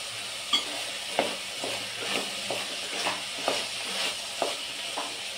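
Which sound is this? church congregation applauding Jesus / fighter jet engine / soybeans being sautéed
soybeans being sautéed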